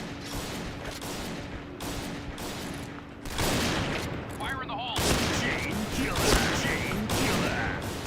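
Sniper rifle shots in a video game firefight, SSG-69 and M200 type bolt-action rifles, with sharp bursts and sustained gunfire rumble mixed with game effects, while a person talks over the action.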